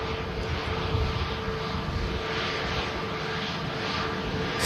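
An EgyptAir airliner at Manchester Airport produces a steady, broad engine roar that holds at a fairly constant level throughout, heard from a distance with no talk.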